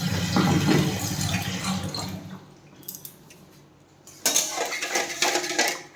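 Mung dal being rinsed in water in a pot, with sloshing and clinking of the vessel, a quieter pause, then renewed splashing and pot knocks close by.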